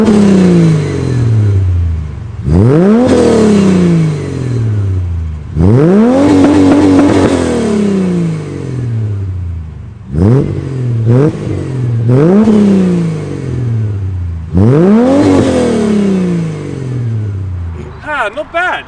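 A Ford AU Falcon engine fitted with Pacemaker extractors and exhaust revs hard several times, each throttle blip rising and falling, loud and close with a deep burbling tone between revs.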